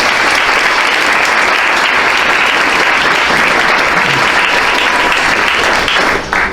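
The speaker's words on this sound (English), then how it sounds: "we want to give you a round of applause" Loud, dense applause from an award ceremony audience fills the whole stretch, sustained and even with no voices on top, easing off only at the very end.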